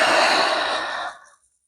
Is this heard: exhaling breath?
yes